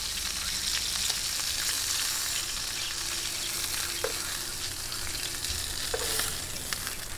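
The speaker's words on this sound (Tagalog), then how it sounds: "tuloy lang po natin yung pagpiprito hanggang sa matapos" Loud, continuous sizzling of chicken frying in hot oil, with occasional soft clinks from a utensil.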